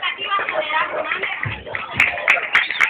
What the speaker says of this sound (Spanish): Un minuto de aplausos.